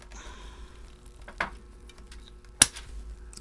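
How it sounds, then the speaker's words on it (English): A long plant root is snipped during repotting, with two crisp, close cutting snaps about a second apart against quiet rustling handling noise and no speech. "we got a long root here that won't fit into the pot, so we're going to have to be drastic and cut it"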